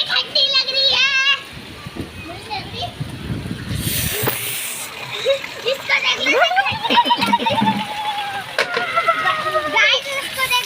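Water splashes as a young girl pours mugfuls over herself while bathing after heavy rain. A bright burst of splashing sits among the excited chatter of children and someone talking throughout.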